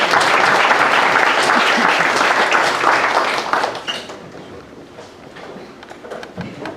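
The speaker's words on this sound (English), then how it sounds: "If we can get a round of applause for Brother Joshua Will." Audience applause at an interfaith spring dinner, loud, dense clapping for the first few seconds that thins and fades to scattered claps.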